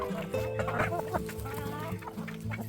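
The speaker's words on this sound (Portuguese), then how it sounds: "Com o galo perto também, ó." Rooster and hens of different chicken breeds clucking close by in a farmyard, a steady run of overlapping clucks and calls that goes on without a break.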